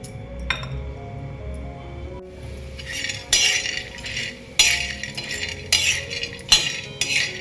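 A metal spatula scrapes and clinks against an iron pan in repeated bursts as dried chana dal dumplings roast, with a low background hum between strokes and no talking.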